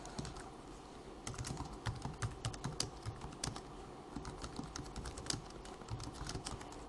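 Quiet, steady clatter of typing on a computer keyboard, with rapid irregular keystrokes close by and no voice over them.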